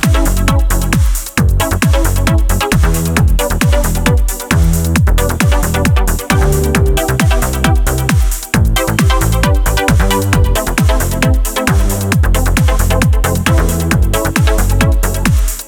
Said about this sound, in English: I'll just show you a small beat I made using this kick drum sound.